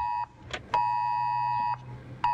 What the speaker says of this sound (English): You hear the sound, but you only have to read the first 2 words to know it's something serious. Official Amber Alert.